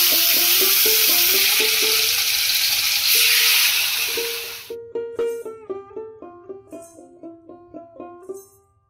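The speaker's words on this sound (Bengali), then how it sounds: "আলু ভাজার তেলে আমি এখন চিকেনগুলো ভেজে নেব।" Chicken pieces fry in oil left from frying potatoes, a broad steady hiss for the first few seconds under plucked background music, which then carries on alone.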